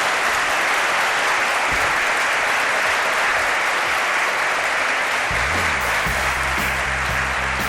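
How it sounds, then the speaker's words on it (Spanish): A studio audience breaks into loud, continuous applause, a dense roar of clapping that carries on for several seconds while low music notes begin underneath near the end. "Pido un aplauso para Miguel Pedrero"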